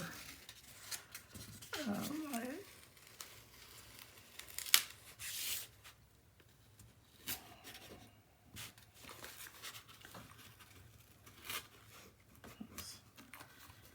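Paper tears during a mini album build, with one sharp rip followed by quieter crinkling, rustling and small handling taps at close range.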